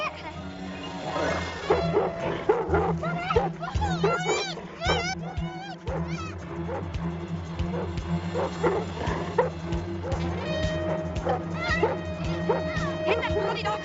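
A dog barks and whimpers in a tense scene, yips and whines scattered through steady background noise and overlapping voices of people talking and shouting.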